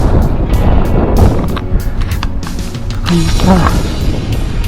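Wind gusts buffet the microphone on a hike along an old disused railway line in the Auvergne, Cantal, as loud, uneven rumbling under a few brief French words from a man.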